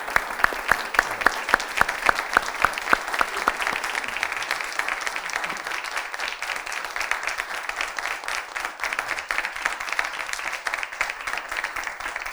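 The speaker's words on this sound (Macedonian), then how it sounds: "денеска беше нашиот пријател Петар Грашо, еден аплауз." A studio audience gives a long, dense round of applause for guest Petar Grasho. Sharp individual claps stand out at first, then the clapping settles into a steady wash.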